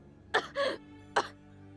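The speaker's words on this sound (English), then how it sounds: "You're coughing up blood." A character in the video game BlazBlue Continuum Shift Extend coughing, three short harsh coughs with the middle one drawn out, close over a faint steady hum.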